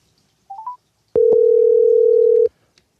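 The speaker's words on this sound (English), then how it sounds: "I'm going to call him so we can do the interview on the phone" A telephone placing a call, apparently through a Bluetooth connection: a few quick rising beeps, then a loud, steady dial tone that holds for over a second before cutting off, with no talking.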